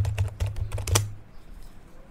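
Keys on a computer keyboard clatter in a quick burst of about eight crisp taps as a search is typed into Windows 11, then the typing stops and only faint room noise remains.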